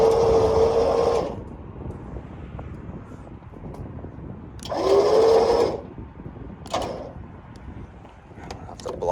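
A winch pulls a vehicle onto a trailer with two loud, whining bursts of several seconds, separated by quieter outdoor noise. A shorter mechanical burst follows, and there is no speech.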